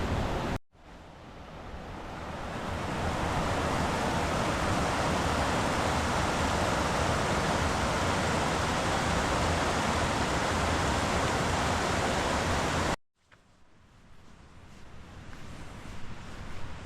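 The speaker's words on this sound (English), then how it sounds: "The thing I love so much about the Speed River is you get such beautiful waterfalls." A waterfall on the Speed River rushes as a loud, dense, steady roar of falling water close by, cutting off abruptly near the end to quieter outdoor ambience, with no talk.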